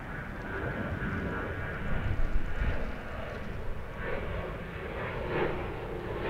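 An American Airlines jet airliner at DFW International Airport gives a steady, fairly distant engine roar that swells slightly midway and holds as a continuous broadband rumble.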